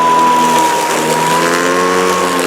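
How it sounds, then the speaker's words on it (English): A Toro 60V Flex-Force cordless 21-inch push mower's electric motor runs with a loud, close, steady whine and blade hum, holding a fairly constant pitch with only a slight rise, and no talking. "Hear the engine speed up here."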